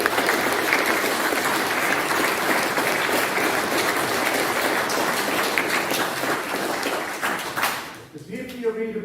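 A large crowd applauds loudly and steadily, a dense wash of clapping that fades near the end as a voice begins speaking.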